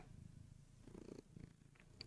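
A cat purrs close by in a quiet room, a steady low rumbling throb that swells and dips in loudness, with a few small clicks and a brief bump near the end.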